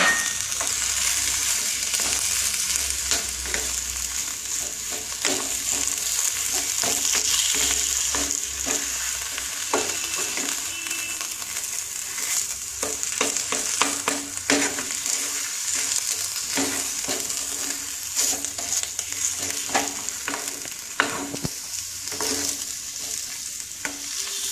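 Mashed potato mixture for aloo chop is stirred and fried in a pan, with a steady sizzle and repeated scraping, stirring strokes close by throughout, with no talking.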